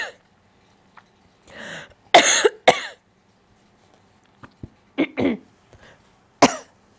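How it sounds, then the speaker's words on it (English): Several sharp coughs from one person, spaced irregularly across a quiet room: a pair of harsh bursts early, then scattered shorter hacks and a final cough, close to the microphone with silence between them. "when I start doing these, I get this cough"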